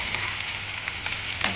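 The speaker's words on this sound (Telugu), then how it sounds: "కొంచెం దోరగా వేగే వరకు వేయించుకోవాలి." Thin, long-cut ivy gourd slices fry in hot oil, a close, steady crackling sizzle with small bright pops scattered throughout.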